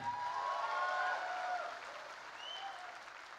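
Audience applause at a political rally, a soft, distant wash of clapping from a crowd, fairly steady and fading slightly, with faint tonal sounds drifting over it.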